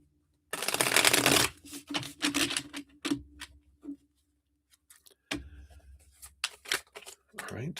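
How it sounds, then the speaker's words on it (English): Tarot cards are shuffled by hand in quick riffling bursts and crisp flicks, close and fairly loud, with brief pauses between rounds and someone talking over them. "Let's shuffle these up real quick here."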